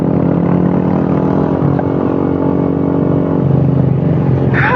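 Overheated Honda Supra motorcycle engine, a loud, steady, droning mechanical rumble that runs unbroken and close for the whole stretch.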